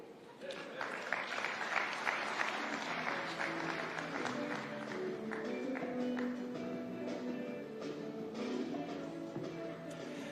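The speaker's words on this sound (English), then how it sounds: "Another round of applause for Governor Nyong'o" Applause for Governor Nyong'o at the Kenya Private Sector Alliance 20th anniversary at KICC, a large audience clapping in a full, continuous burst with voices mingling underneath.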